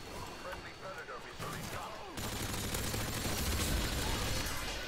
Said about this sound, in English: someone's shooting out fireworks for some reason in my neighborhood